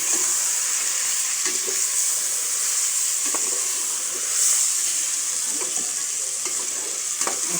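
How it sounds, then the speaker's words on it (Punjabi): Meat frying with ginger and garlic in a pot for an aloo gobi gosht curry, giving a steady close sizzle with occasional stirring scrapes and pops. "ਨਾਲ ਅਦਰਕ ਲਸਣ ਦੇ ਨਾ ਭੁੱਜ ਜੂਗਾ, ਜ਼ਰਾ ਫਰਾਈ ਹੋ ਜੂਗਾ।"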